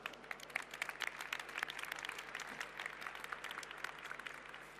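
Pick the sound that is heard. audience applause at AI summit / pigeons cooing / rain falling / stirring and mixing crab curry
audience applause at AI summit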